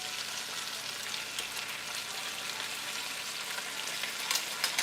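Steady, even sizzling of oxtails frying in oil in a skillet, a continuous crackling hiss throughout with slightly sharper pops near the end, no voices.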